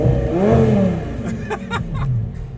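A turbocharged engine in a homemade Lamborghini replica revs up loudly then settles, a rising and falling growl close by, followed by rapid bursts and a lower idle.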